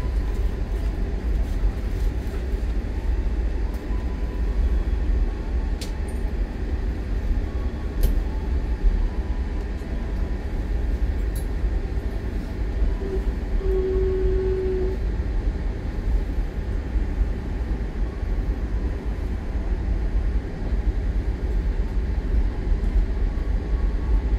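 Economy-class KA Menoreh passenger train running on rails past Cirebon station, heard as a loud, steady low rumble and hiss of wheels on track that stays even throughout with no talking.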